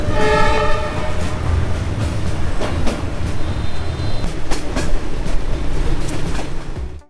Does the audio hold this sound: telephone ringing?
no